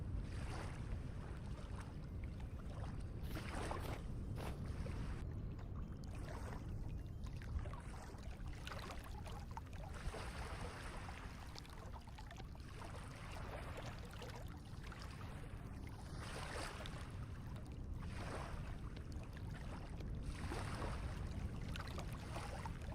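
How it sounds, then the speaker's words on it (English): Sandstorm wind in the video game Vintage Story, a constant, fairly quiet rushing gust that swells and fades slightly throughout, with no voices. "we're getting a little snowstorm. I guess maybe this is a sandstorm?"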